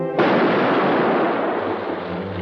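A single thunderous cannon blast from a sailing warship in a 1945 pirate adventure film, a loud broadband boom that rolls out and slowly fades with a sustained low rumble.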